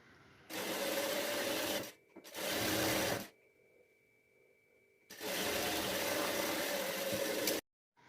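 An electric sewing machine stitches a sleeve band in three separate bursts of rapid, steady whirring, close and fairly quiet, with short pauses and a faint hum between runs.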